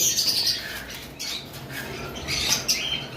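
Sun conure parrots squawk and screech in loud, shrill bursts close by at a bird seller's, with wing flutters and scrabbling mixed in.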